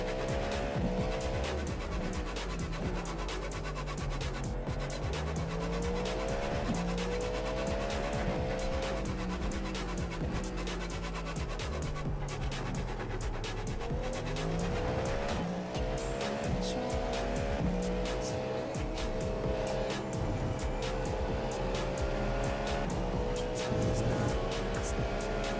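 Cadillac V-Series.R GTP prototype race car in an IMSA endurance racing game at Circuit of the Americas, engines wailing through rising and falling gear changes with tire squeal, a faster car closing in loud and continuous.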